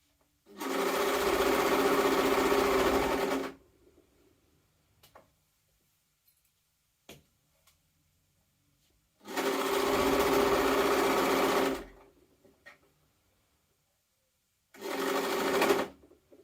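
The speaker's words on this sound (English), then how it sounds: "I'm going to sew along that long edge to trap my straps inside that seam" A domestic sewing machine stitches a long seam on a jumpsuit, running in three separate steady bursts of a few seconds each, with quiet pauses and small clicks between them.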